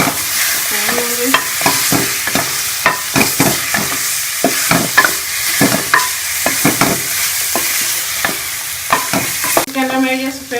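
Beef pieces frying in a pan for white beef karahi, stirred with repeated scraping, clattering strokes over a steady, close sizzle throughout, with no talk.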